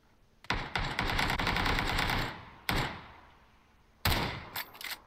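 Bursts of automatic gunfire in the battle-royale shooter PUBG, played through Stadia: a long sustained volley, then a short burst and a final cluster of shots, loud and close with no talking over them.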